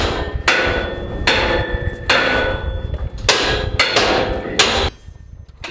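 Heavy metallic strikes as a forcible entry tool is driven in during firefighter recruit training, a steady series of about six loud blows, each ringing briefly before the next.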